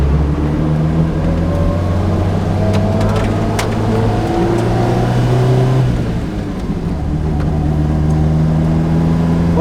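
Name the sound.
Lotus Exige S1 engine accelerating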